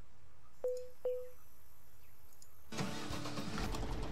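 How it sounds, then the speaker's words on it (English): A tractor in the Pro Farmer 14 American DLC farming game: two short, clear beeps are followed by the engine cranking to life and settling into a loud, steady run. "Now let's hop back to our other tractor"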